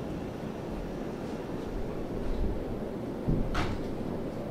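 A door being closed indoors while a ceiling fan runs and a dehumidifier hums: steady, faint airy noise with one soft thud near the end.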